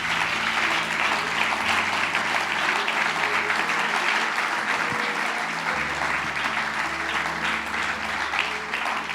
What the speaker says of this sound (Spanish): Fuerte ese aplauso para Él